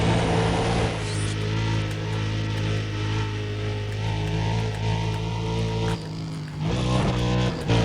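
Car accelerating in the racing game Need for Speed: Undercover during a highway sprint through traffic, a loud steady engine drone with deep low hum, briefly dipping near the end before the roar resumes.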